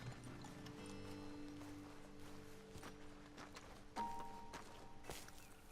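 Horses walking in the Western game Red Dead Redemption 2, quiet irregular hoof clops with faint creaks and tones, with a somewhat sharper knock near the end.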